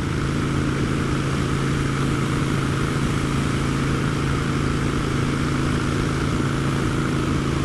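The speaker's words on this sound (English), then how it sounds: "Nice motorbike." A motorbike engine runs steadily and close by, a continuous mid-pitched drone with no pauses for the whole stretch and no voices over it.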